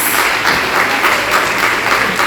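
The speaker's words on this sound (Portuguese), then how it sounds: "Vamos aplaudir o nome de Jesus." A church congregation claps in unison at a worship service, sustained and loud applause filling the room steadily throughout without pause.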